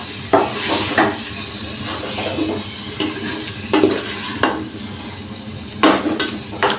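Spices are stirred into frying beef in a pot for chana dal gosht, with a spoon scraping and knocking against the pot every second or so over a low, continuous sizzle, close and fairly loud, no talking.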